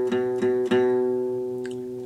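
Guitar strings ring out on a basic open chord, struck three times in quick succession. The sustained tone then fades slowly, close and clear, with a faint tick near the end.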